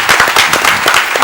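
Brief burst of audience applause at a regional quiz final, dense crisp clapping from a hall crowd filling the whole moment at steady loudness.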